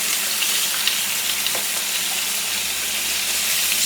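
Chicken pieces fry in hot oil in a skillet, a steady, loud, dense sizzle and crackle running throughout with faint shifting and scraping as pieces are moved, no voices.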